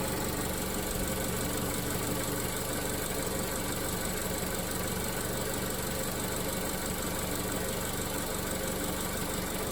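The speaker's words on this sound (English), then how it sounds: "Probably the quietest Corsa you've ever heard." A Vauxhall Corsa D engine idles smoothly and quietly, a steady low hum with faint mechanical ticking and no revving, heard close and alone throughout.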